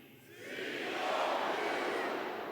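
A commencement crowd of business-school graduates and guests at a University of Missouri ceremony roars the M-I-Z Z-O-U cheer, a broad, swelling shout that builds and holds loudly near the end.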